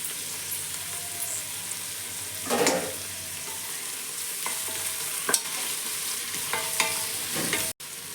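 Onions fry in ghee in a pan, giving a steady soft sizzle broken by a few scraping stirs and clinks of the spoon, close by and with no voices.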